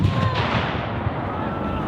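Artillery, including rifled 6-pounder guns, fires at an American Civil War battle reenactment, a heavy boom opening the moment and rolling into a long, fading rumble outdoors.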